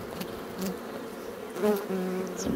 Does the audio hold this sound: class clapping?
no